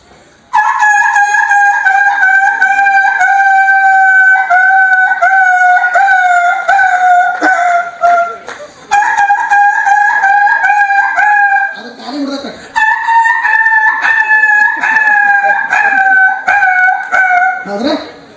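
At an award ceremony, a person imitates a rooster crowing. The voice gives a series of loud, close, drawn-out crowing calls, repeated back to back with only brief breaks.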